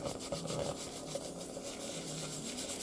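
Rubbing sticker residue off a plastic surface, producing a steady, close, scratchy friction sound of repeated back-and-forth strokes with no talking.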